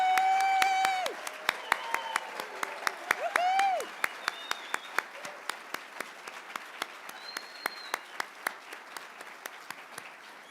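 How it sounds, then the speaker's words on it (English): Sustained audience applause at an honors medallion ceremony, dense clapping from a large crowd that gradually thins and tapers off, with a few cheers and whistles near the start. "Please join me in giving them one more generous round of applause."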